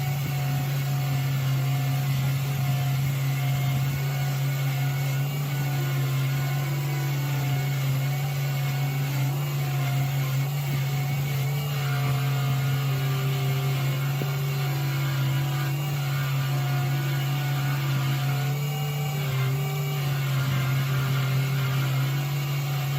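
A Triple E buffing wheel polishing a dyed flower pen blank, a loud steady motor hum with constant whirring drone and faint rubbing texture, continuous with no voices.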